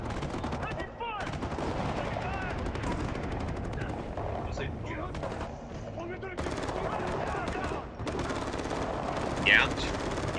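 Video game gunfire from a Ubisoft E3 2011 demo, continuous loud machine-gun bursts and rapid shots with battle noise throughout, while people shout and talk over it.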